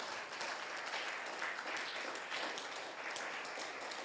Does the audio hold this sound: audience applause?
yes